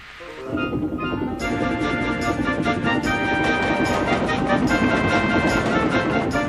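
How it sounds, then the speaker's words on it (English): A loud, continuous rolling clatter of a steam train, wheels pounding steadily on the rails with a dense metallic roar and no voices. "Gordon's wheels pounded the rails."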